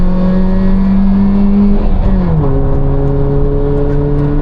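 A car on a race track roars close by at high revs, then the engine note drops sharply as it shifts or lifts before pulling again, loud and continuous with no speech over it.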